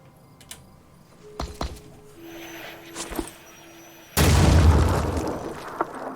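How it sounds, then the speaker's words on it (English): A grenade explodes in the tactical video game Phoenix Point: a sudden, loud, booming blast with a rumbling tail that fades out, preceded by quieter scattered game clicks and thuds. "Yeah, I can hit this guy with a grenade."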